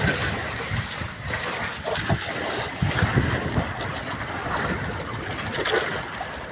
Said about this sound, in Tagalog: Oh, grabing dool sa barko.